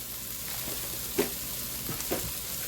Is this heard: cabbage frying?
yes